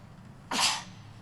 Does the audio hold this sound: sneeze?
yes